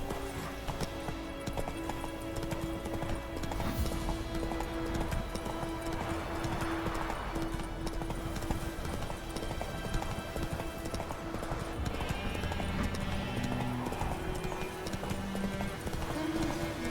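In The Witcher 3, the horse Roach gallops with a continuous rapid clip-clop of hooves, moderately loud against a game ambience, with a brief whinny in places.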